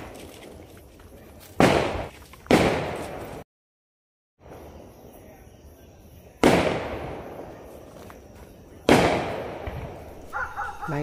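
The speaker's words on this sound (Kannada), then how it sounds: "ಇದು ಪಟಾಕಿ ಶಬ್ದ ಗೊತ್ತು" Firecrackers burst at a night-time festival in Bangalore near a cemetery, with four loud, sharp cracks spaced a second or several apart. Each one echoes and rings out before dying away, and a faint dog barks in between.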